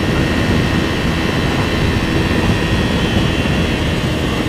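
A Kawasaki Ninja 250FI motorcycle engine drones loud and steady as it accelerates through the gears, mixed with heavy rushing wind noise.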